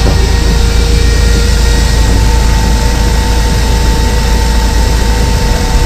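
A Hyundai LF Sonata LPI engine runs steadily during an intake and injector cleaning, giving a loud, constant drone with a low rumble and a faint whine held throughout, with no voices.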